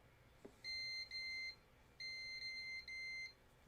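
A multimeter's high electronic beep sounds in several sustained bursts with short gaps between them, clear over a quiet background.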